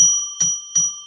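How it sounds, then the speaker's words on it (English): A bell rung three times to declare sacred space during a live psychic radio broadcast: three evenly spaced, clear metallic strikes whose bright ringing tones sustain and overlap throughout. "We've had our bell"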